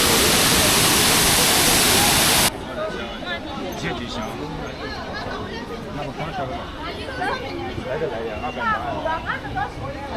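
A roaring rush of water from a tiered waterfall on the China–Vietnam border opens loudly, then continues more softly beneath a lively babble of many people chatting.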